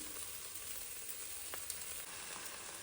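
Mint goes into rice frying in a hot pan, producing a soft, continuous sizzle with a faint clink or two of utensils, close by and without talk.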